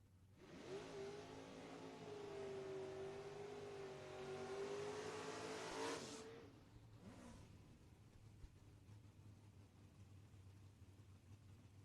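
A Mustang drag race car at first-round eliminations launching hard, a loud rising engine roar for about five seconds that cuts off sharply, followed by a brief second burst and low rumbling ambience.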